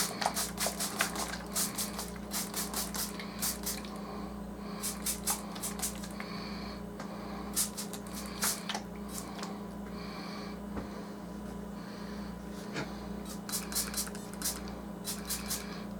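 Spray bottle misting watered-down acrylic paint for a water effect, heard as repeated short bursts of hissy spritzes in clusters over a steady low hum, fairly close.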